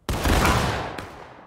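Musket volley fired by an infantry line in a Civil War battle video game, a single loud close boom with a heavy rumbling decay lasting over a second.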